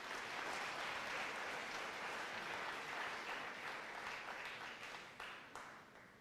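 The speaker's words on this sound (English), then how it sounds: "Please give them all a round of applause." A steady wash of crowd applause at an awards ceremony, many hands clapping at once, holds strong and then tapers off slightly near the end.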